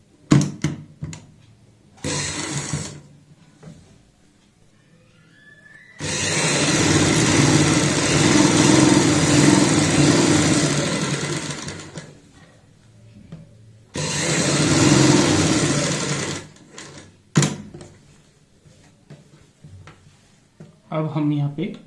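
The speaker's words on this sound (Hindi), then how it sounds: "हम यहाँ पे इस तरीके से सिलाई लगाएंगे" Sewing machine stitching a kurti placket, running in two long steady whirring bursts of several seconds each with shorter starts between, a woman explaining over the pauses.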